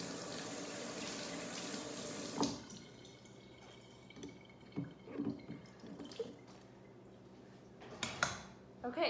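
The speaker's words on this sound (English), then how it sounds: "I'm gonna rinse the spoon too." A metal spoon is rinsed under a running kitchen tap while making plaster hand casts: a steady gush of water for a couple of seconds, then the flow stops and soft drips, light clinks and handling noises follow.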